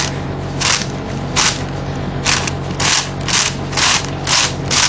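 Layers of an X Cube 4x4 puzzle cube turned by hand, producing a series of short, crisp plastic clicking and ratcheting bursts, about nine in all at an uneven pace, close and distinct over a faint background hum.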